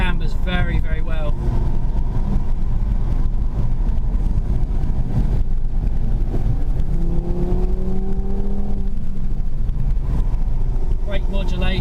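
A 2017 Audi TT RS drives a winding road over crests and cambers, its engine a steady loud drone with wind rush throughout and a rising rev near the end, under someone talking.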